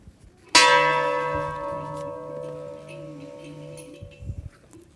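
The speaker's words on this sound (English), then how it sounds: "We proclaim our preparedness and we toll the bell." A single ceremonial bell struck once at a graduation ceremony, a loud clear toll with a long ringing decay that fades over several seconds in a quiet hall, with faint rustling near the end.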